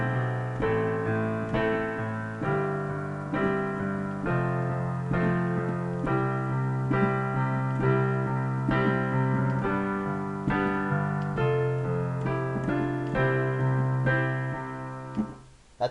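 A piano plays the chorus of a song as full chords under a melody line, steady and close with sustained ringing notes, running about sixteen seconds and then cut off sharply.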